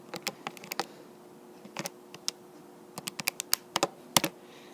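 Numbers keyed into a calculator-style computer keyboard during a precalculus lesson, heard as scattered clicky keystrokes in small irregular bursts, close and fairly quiet with no talking.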